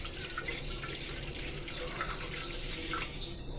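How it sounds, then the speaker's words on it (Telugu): A glass of water is poured into a cooking bowl, a steady splashing stream that stays constant and fairly close for a few seconds, with no talking. "ఆ గిన్నెలోని ఒక గ్లాస్ వాటర్ పోసుకుందాం."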